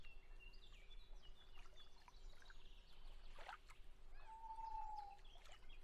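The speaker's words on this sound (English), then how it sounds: "The loons and stuff." A loon calls out across the water on a misty morning in the video game Fishing Planet, a single clear drawn-out wail standing out from a low steady ambient hum and faint distant birds.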